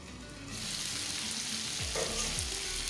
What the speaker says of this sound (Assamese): এইখিনি পুনৰ অকণমান লৰাই দিলোঁ যাতে তলত লাগি নধৰে।